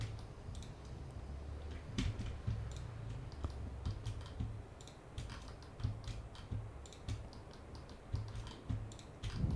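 Steady keystrokes on a computer keyboard during a SketchUp building modelling session, a quiet run of irregular clicks and taps over faint background hum.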